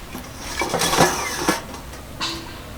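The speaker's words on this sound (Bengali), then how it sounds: "এবার ঢাকনাটা খুলে দেখব কেমন হয়েছে" A metal lid lifted off a wok in which sago momos have steamed for five to seven minutes gives a few close clanks and knocks, then a short rattle as it is set aside.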